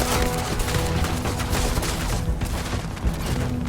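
Dense, continuous enemy gunfire in the space shooter game Starfield: a loud, close rattle of overlapping shots with low booms underneath, no talk.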